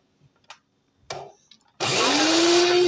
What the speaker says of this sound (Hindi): बीटर चला के इसको बीट करेंगे